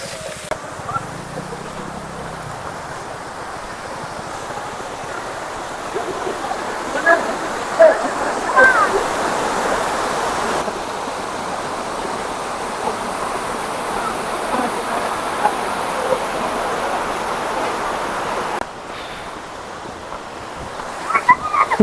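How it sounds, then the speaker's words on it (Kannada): Steady roar of Honnammana Halla waterfall in Chikkamagaluru, a continuous broadband rush of falling water close by that swells in the middle and continues, with no talk over it. "ಸೊ ಇದೇ ಹೊನ್ನಮ್ಮ ದೇವಿ ಫಾಲ್ಸ್"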